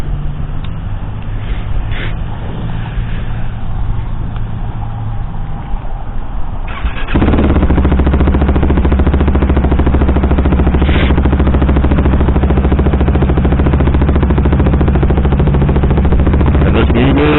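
A KTM sport motorcycle running a Powertronic ECU map with a 16-tooth front sprocket idles at first, then its engine note jumps into a loud, continuous, buzzing run as the ride gets under way, steady and close with no talk.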